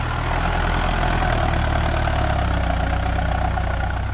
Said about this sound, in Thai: เป็นเครื่องขนาด4สูบ ครับ 4สูบ ไม่มีเทอร์โบนะครับ